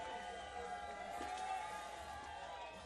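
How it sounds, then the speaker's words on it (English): A crowd at the Red Bull Skate Generation skateboarding event in Floripa, Brazil keeps up a steady roar of cheering from a distance, a continuous wash of noise with a commentator talking over it. "Crowd still going wild."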